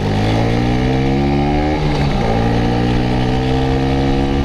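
A 1977 Vespa Super 150 scooter engine chugs loudly and continuously at close range, vibrating, its pitch dipping briefly midway before settling back to a steady vibrating drone.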